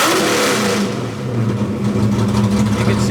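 A Ford Foxbody car engine revs loudly and then settles into a steady, rumbling idle after tuning, sounding close and continuous throughout.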